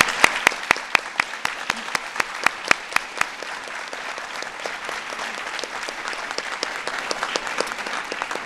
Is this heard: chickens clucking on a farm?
no